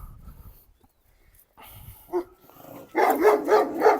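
Anatolian shepherd dogs barking: after a quiet stretch with faint scuffles, a near dog lets out a rapid string of loud, deep barks.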